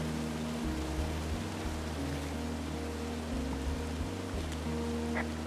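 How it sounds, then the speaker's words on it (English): A waterfall in the forest of Firewatch gives off a steady, broad rushing roar, moderately loud and unbroken, with a low hum layered underneath. "It's a really nice waterfall down here."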